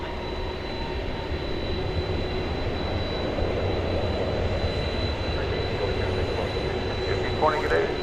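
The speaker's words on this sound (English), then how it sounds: "Those Delta Flight 839 from Atlanta and Airbus A321 coming in there." A Delta Airbus A321 arrives at DFW Airport, its engines a steady, broad roar sustained throughout with a faint rising whine near the end, heard from a distance under the spotter's voice.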